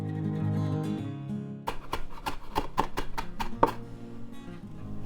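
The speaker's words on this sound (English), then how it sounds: "Chop some fresh cilantro." Fresh cilantro is chopped with a knife on a board, a quick run of about ten sharp, evenly spaced knocks following a quieter stretch, close and clear with no voices.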